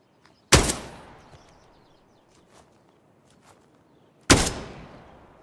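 A heavy weapon fires twice toward the player in the tactical shooter Dagger Directive, each loud sharp blast trailing off, with faint clatter and quieter sounds in the gap between them.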